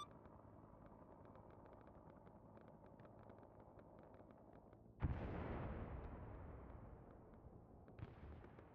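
C4 charges detonating in a tunnel in Arma 3: after a low rumbling background, one sudden booming blast erupts, then a long roaring, decaying echo, followed by a smaller secondary thump.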